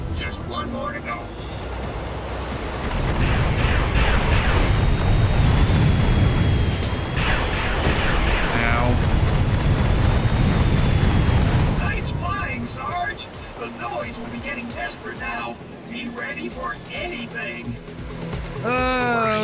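VTOL aircraft in a video game roars through flight with booming weapon fire and bursts, loud and dense for most of the stretch, then thins into scattered pops and effects beneath a talking voice.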